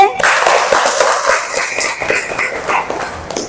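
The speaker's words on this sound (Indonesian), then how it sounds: "Kita beri tepuk tangan untuk Rere." A classroom gives a short burst of clapping for a student during a lesson, the claps fairly close and uneven, with some voices mixed in.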